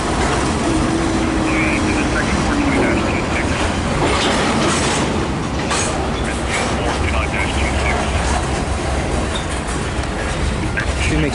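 A freight train rolls past steadily with a continuous loud rumble and rhythmic clickety-clack of wheels over rail joints, filling the whole stretch; faint voices may sit beneath the noise.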